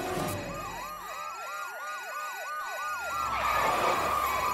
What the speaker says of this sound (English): I can't remember my code to turn off the dang alarm